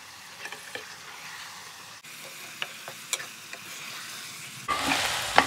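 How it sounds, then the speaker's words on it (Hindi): Minced meat frying in a pan for khara masala qeema, a steady low sizzle broken by scattered stirring clicks and scrapes, growing louder and hissier near the end as the meat hits hotter oil. "अब हम इसके अंदर डाल देंगे कीमा। तो अब हम इसे अच्छे से भूनेंगे।"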